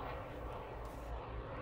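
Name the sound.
World War II fighter plane in flight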